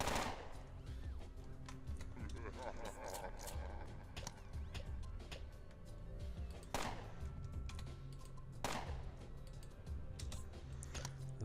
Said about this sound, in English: you're just a boxer, and I've got a machine gun